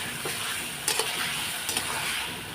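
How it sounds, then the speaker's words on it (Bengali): Soybean chunks fry in a wok with a steady hissing sizzle, and two or three sharp scrapes of a ladle stirring through them, close and without talk. "সোয়াবিনটাও আমি ভেজে নেব এই কড়াইতে"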